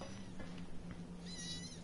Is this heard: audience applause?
no